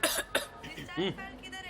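A couple of sharp coughs up close, followed by a short murmur of voice and throat sounds.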